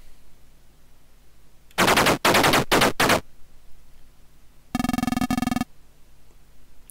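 Coaxial machine gun on a tank firing in the video game Armoured Commander: two loud bursts of rapid automatic fire, the first broken into several quick strings, the second a tight mechanical rattle, with quiet gaps between.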